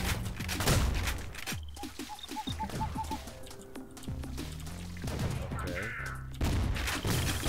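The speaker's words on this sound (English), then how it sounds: "Ooh, chain gun." A chain gun fires in the video game Ion Maiden in rapid bursts amid other game effects and chirping sounds, loud and busy, with a voice speaking briefly over it.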